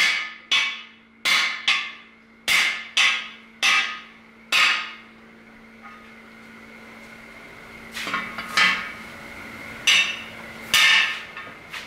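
Hammer blows driving cam bearings into an LS engine block, a run of sharp metallic strikes in steady rhythm, then a short pause and a few more ringing blows, close and loud.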